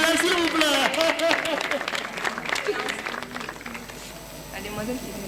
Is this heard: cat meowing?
no